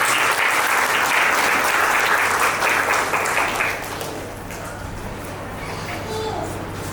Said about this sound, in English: So big round of applause to all the people.